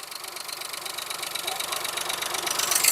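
A Maruti Suzuki Alto LXi car engine idles with a steady, slightly knocking mechanical rumble and hiss, gradually growing a little louder.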